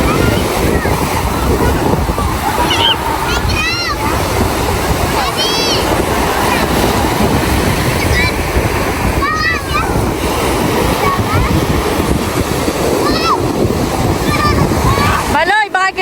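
Steady roar of ocean surf with wind buffeting the microphone, people talking and calling out over the wash of the waves throughout.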